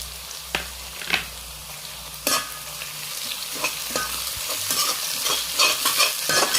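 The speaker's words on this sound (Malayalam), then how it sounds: "എല്ലാം കൂടി നന്നായിട്ടൊന്ന് ഇളക്കി കൊടുക്കാം" Green chillies and onion stirred in a hot oiled pan for Kerala puli inji, a steady close sizzle broken by scraping spoon strokes and occasional clinks against the metal.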